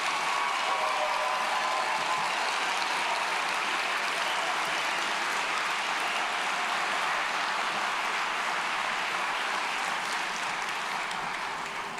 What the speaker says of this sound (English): Let's give our probationary firefighters another big round of applause